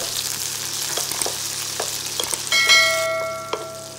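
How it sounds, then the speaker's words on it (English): Curry leaves and chopped chilies frying in hot oil, a steady close sizzle throughout with a few stirring knocks and a bright metallic ring near the end, for a raw fresh turmeric curry. "Fry until the raw smell is going away."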